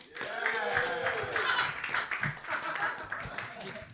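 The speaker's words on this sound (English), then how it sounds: "start clapping right now for Marty Curry" Comedy club audience at a roast battle clapping and cheering for a comedian being introduced, a dense, steady wash of applause with a voice talking over it.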